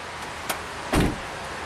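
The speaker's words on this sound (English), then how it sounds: "All right, so close the door, Bill." A car door slams shut on a road-trip vehicle, one solid thump after a faint click, close by, with a quiet steady background and no voices.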